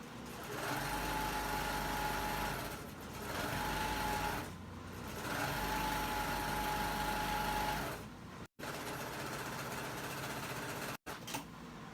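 A serger sewing machine stitching pieces of a pair of shorts, running in several sustained bursts of steady high-pitched whirring with brief pauses between runs, close and loud with no talking.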